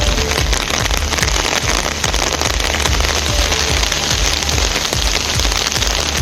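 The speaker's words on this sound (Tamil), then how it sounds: "திடீரென மழை கொட்டி தீர்த்ததால் விவசாயிகள் மகிழ்ச்சி அடைந்தனர்" Heavy rain pours down in a sudden downpour, making a loud, dense, continuous hiss and patter of drops on surfaces with no break.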